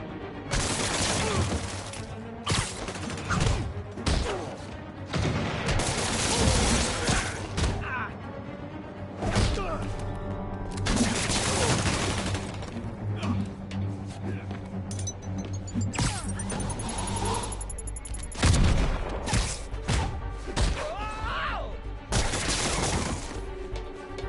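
Enemies firing guns in a Spider-Man video game, scattered shots and impacts mixed with thuds and crashes, loud and near, with voices talking across the fighting and a music bed underneath.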